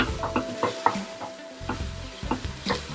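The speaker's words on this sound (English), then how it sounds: "our coconut has gone in, and you can see you stirred it and stirred it to mix the whole thing" Shredded coconut is stirred into a Kube coconut cake mixture in a pot, a quick series of close scraping and sloshing strokes with a faint sizzle, repeating in an uneven rhythm of roughly four strokes per second.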